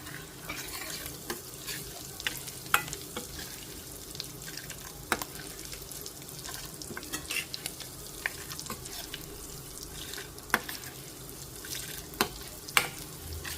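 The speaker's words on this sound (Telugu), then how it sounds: "ఇంగు వేసాను కొంచెం వేపాలి" Asafoetida tempering in hot oil fries with a steady low sizzle, broken by sharp spoon scrapes and clinks against the pan at irregular intervals.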